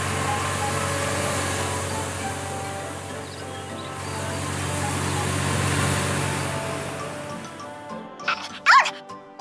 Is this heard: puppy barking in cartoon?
yes